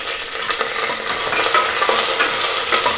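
Garlic and ginger fry in a hot pan for a chicken soup, a close, steady sizzle with scattered crackles and spits throughout, no voices.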